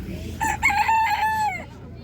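A white rooster at an animal market crows once, a loud, close cock-a-doodle-doo lasting about a second over faint background noise.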